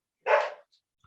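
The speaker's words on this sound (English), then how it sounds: "Sorry about my dog." A pet dog barks once, a single short sharp bark close by, followed by near silence.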